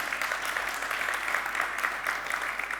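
An audience claps steadily at a conference presentation, moderately distant, a continuous wash of applause with no talking.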